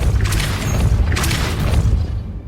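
A Depulso spell cast in Hogwarts Legacy lands as a deep, booming magical blast, with two swelling surges over a heavy low rumble, loud and close with no talk.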